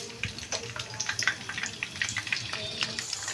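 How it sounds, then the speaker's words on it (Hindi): Potato kebabs (aloo tikki) are slipped into hot oil one at a time and begin to fry, with a soft, close crackle and bubbling and scattered sharper pops. "इस तरह मैं अपने तमाम कबाब डालूँगी और इनको फ्राई कर लेंगे"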